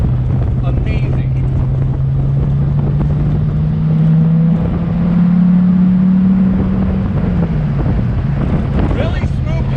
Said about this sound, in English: that V10 sounds like a sweet symphony